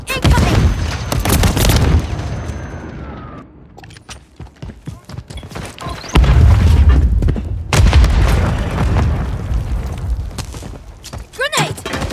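Grenade blasts and rapid gunfire from an online Modern Warfare 3 match, with loud booming explosions and dense bursts of shots filling most of the stretch and brief quieter gaps between volleys.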